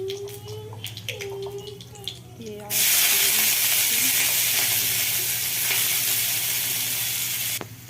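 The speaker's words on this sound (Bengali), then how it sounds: "পেঁয়াজগুলো ভেজে নিলাম," Onions dropped into hot oil in a heated wok burst into a loud, sustained, hissing sizzle after a few soft clinks of utensils, holding steady for about five seconds before cutting off abruptly.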